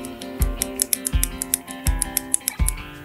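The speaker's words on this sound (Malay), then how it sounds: "Dan brown key ni bunyinya tak bising macam blue key lah." Brown switches on a Machenike K500 B61 mechanical keyboard, tapped in a steady run of close, softer tactile clacks with light low thuds in the background.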